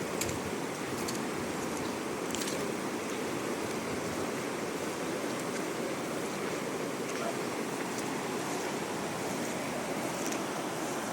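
Strong floodwater current rushes past in a steady, dense roar that never lets up, with faint voices in the background.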